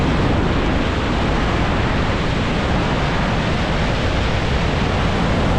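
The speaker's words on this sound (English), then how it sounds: "we took the opportunity to see our waterfall flowing into the sky again" Gullfoss waterfall in Iceland roars as a loud, dense, unbroken rush of falling water, steady and close with no other sounds.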